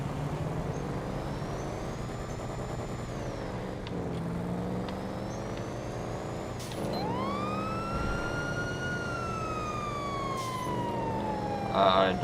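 Police car siren in GTA V, a continuous wailing tone that sweeps up and down, loud and close, with engine and traffic rumble underneath.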